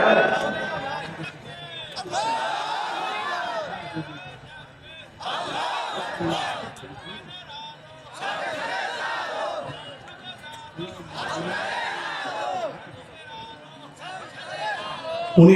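A large crowd at an Islamic sermon gathering in Manirampur, Jessore, roars a takbir call in response: several loud, swelling collective shouts in a repeating rhythm, each rising and falling, with short lulls between them.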